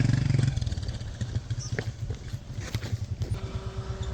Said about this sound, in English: You can see two motorbikes accompanying our K9 truck to the farm.